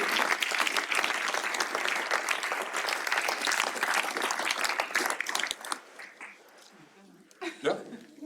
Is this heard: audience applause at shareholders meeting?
yes